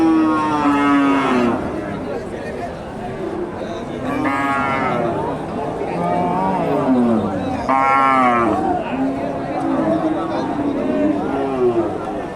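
Cattle lowing at a busy rural cow market in Bangladesh, with several long, loud moos rising and falling close by while a crowd chatters and people talk throughout.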